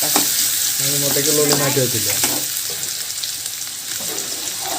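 Onion and mustard seeds frying in oil in a pan for a carrot and egg thoran, a steady close sizzle with a few soft stirring scrapes and a brief clatter near the start.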